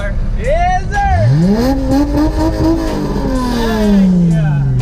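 A 1982 Toyota Celica Supra engine revs up loudly, its pitch climbing then holding and slowly falling, with people talking over it.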